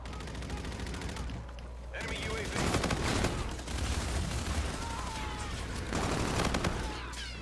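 Rapid bursts of KBAR-32 assault rifle fire in Infinite Warfare multiplayer gameplay, sharp repeated shots in clustered volleys over a steady game soundscape, with brief pauses between the strings of fire.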